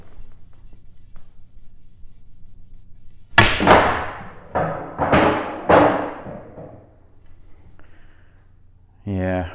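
A cue strikes a ball on a pool table during a straight pool game, a screw shot. Five sharp, close knocks rattle over a fast sequence, with quiet room hum before and after.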